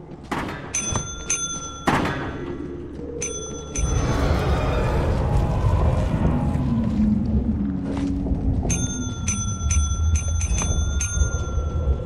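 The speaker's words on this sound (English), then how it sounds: "if you keep ringing the bell while it's open, he gets very upset" A bell in the video game Lethal Company is rung repeatedly in quick bright bursts, first at the start and again near the end, with a heavy rumbling thud and low noise between the rings.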